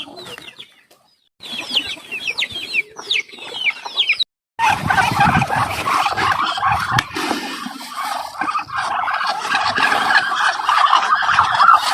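Loud, close poultry noise: chickens cluck and squawk busily in a dense, continuous flock chorus, with gobbling calls mixed in.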